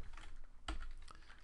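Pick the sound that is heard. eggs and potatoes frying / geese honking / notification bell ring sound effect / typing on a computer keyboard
typing on a computer keyboard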